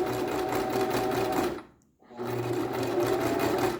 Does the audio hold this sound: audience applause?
no